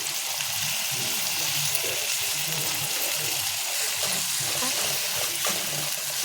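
Shrimp frying in a little hot oil with browned ginger, a steady broad sizzle with bubbling texture running continuously and close throughout.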